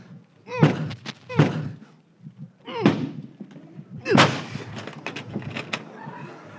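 A door being forced open in an old radio comedy: several heavy thuds and slams, near and loud, land in uneven bursts between and under agitated voices.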